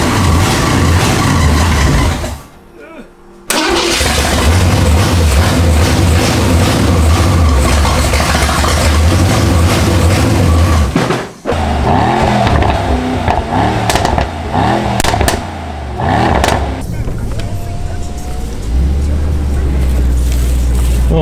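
A Mansory Stealthy Mercedes S63 revs repeatedly, loud deep engine bursts rising and falling close by, with brief pauses and some voices talking in the background.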